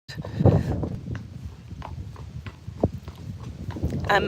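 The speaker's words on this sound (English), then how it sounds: "yes, he is a Friesian horse." Irregular clip-clop of a Friesian horse's hooves on a hard surface, moderately close, with wind noise and a brief voice in the background.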